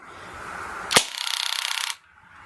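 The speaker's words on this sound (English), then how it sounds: "That's just a little motor stirring up the BBs and loading BBs into the magazine." Baikal Drozd Blackbird IZH MP-661K BB machine gun fires one sharp, close crack, followed by about a second of rapid buzzing rattle from its hopper motor loading BBs, then quiet.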